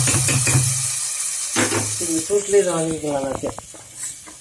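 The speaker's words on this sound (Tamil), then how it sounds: "இதை பொரிஞ்சு இது பாருங்கள் மிளகும் ஜீரகமும்" Pepper and cumin crackle and sizzle in a hot pan for millet pongal, a close frying hiss running under a person talking.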